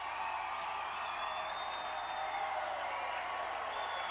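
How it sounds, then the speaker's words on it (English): Basketball crowd at a Red Lake Warriors versus Cherry Tigers game, both sides' fans cheering and yelling in a steady, dense roar that fills the gym without pause. "Both crowds getting into it, trying to make as much noise as they can"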